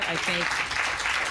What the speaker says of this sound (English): give a warm applause for that